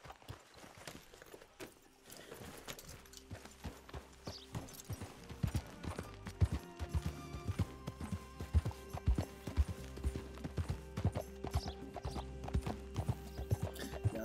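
Horse hooves in the video game Red Dead Redemption 2 clip-clop at a brisk, galloping rhythm with a brief whinny, building from a quiet start to steady, fairly close hoofbeats.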